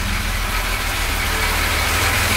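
A Jaguar XJ6 engine idles close by with a steady, pulsing low rumble and a constant rough exhaust throb, running alone without voices.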